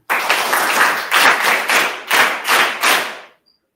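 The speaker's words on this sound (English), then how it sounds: "let's again welcome and clap for ma'am" A small group of students claps to welcome an international educator at an online session, a few close bursts of hand clapping in uneven surges that stop abruptly.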